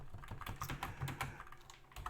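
Rapid, steady typing on a computer keyboard while entering quoted keys into a JSON array, a close, continuous patter of key clicks with no talking.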